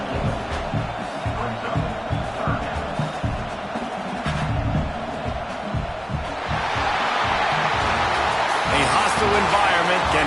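A home crowd at a college football game roars in a continuous, dense wash of cheering that swells louder partway through, with a voice talking over it.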